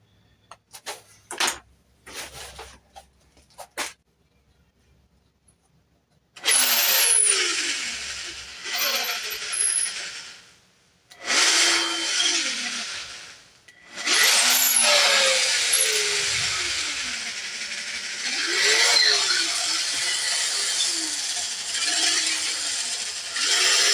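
A drill bores into a hidden tang knife handle, grinding and ratcheting in long sustained bursts after some brief knocks and scrapes, the bit binding and pushing down, close and fairly loud.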